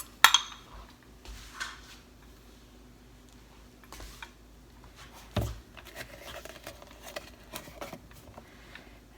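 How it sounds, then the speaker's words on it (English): Sauce ingredients for spicy ranch are whisked in a bowl, heard as sparse light clinks and taps of metal on the bowl, with a couple of sharper knocks, fairly quiet and close. "And I'm going to whisk that in."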